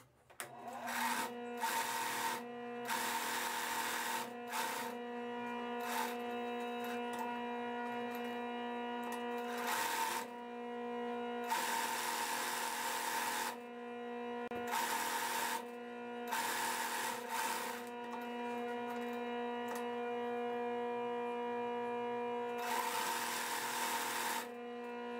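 A sewing machine stitches fabric for a blanket package, running in bursts of steady whirring separated by short pauses, fairly close, with a faint background hum in between.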